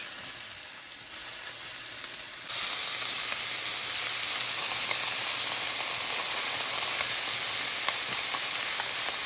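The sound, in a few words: vegetables sautéing in coconut oil in a pot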